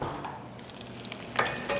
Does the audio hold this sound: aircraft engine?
no